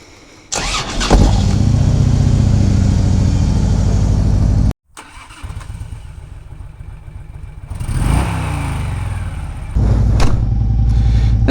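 A 2009 Harley-Davidson Road Glide motorcycle cranks and fires up, idles with a deep loping rumble, then pulls away and revs through gears, loud and close, with a brief cut in the middle.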